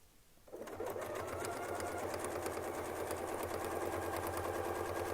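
A sewing machine starts after a quiet moment and then runs continuously, a close, steady mechanical whir with a fast stitching rhythm, while quilting with a Westalee Spin E Fex ruler.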